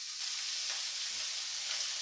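Minced meat substitute frying in a pan, giving a faint, steady hiss of sizzling with soft crackles throughout.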